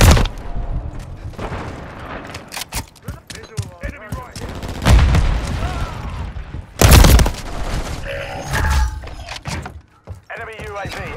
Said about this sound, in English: Throw in a stun grenade